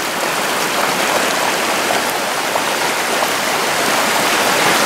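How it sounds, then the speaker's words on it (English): Raging floodwater pours over a culvert on a homestead after a big washout, a loud, steady broadband rush of churning water with no break. "This has become quite a raging river here."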